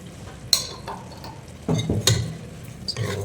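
Chili powder and turmeric get stirred into a fish curry, producing a few close scraping and clinking strokes of a utensil against the pan with soft bubbling underneath.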